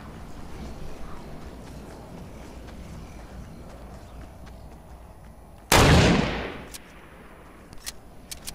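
A single sniper rifle shot in Fortnite cracks out loud and sharp over quiet ambient background, its echo trailing off for about a second, followed by a few faint ticks.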